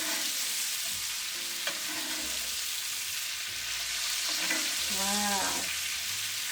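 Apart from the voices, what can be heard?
steak sizzling in a pan while being basted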